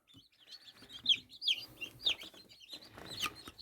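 Young Chinese silkie chicks and mixed-breed chicks from home hens, fresh from an incubator, cheep and cluck in a small huddle, giving repeated high peeps close by with soft shuffling between calls.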